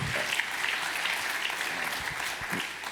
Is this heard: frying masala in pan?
no